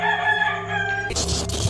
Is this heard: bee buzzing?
no